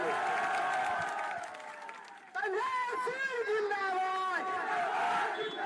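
Large crowd at a Hindi-speaking election rally, a dense roar of cheering and shouting voices with chanting rising and falling, dipping briefly before swelling loud again; clapping is not clearly separable within the crowd din.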